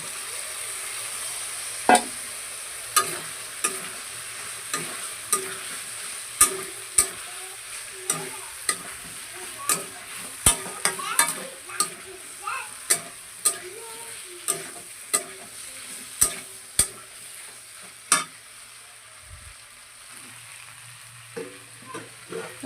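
Fried vegetables stirred into a cooked spice paste with poppy seed in a pan, a constant sizzle underneath sharp spoon scrapes and knocks every second or so, close and clear with no talking.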